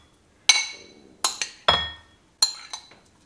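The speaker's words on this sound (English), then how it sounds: "Man, I'm just clinking all around here." A spoon or utensil clinking against a bowl while mashed potato bites are mixed: five or six sharp, close metallic-ceramic clinks spaced irregularly with quiet gaps between.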